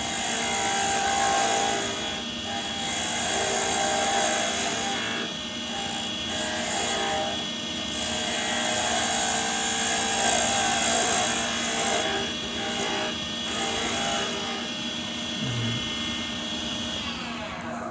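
A wood lathe spins while a gouge takes a slow, steady cut, giving a continuous loud droning whir with rough scraping texture that swells and dips slightly as the tool works in.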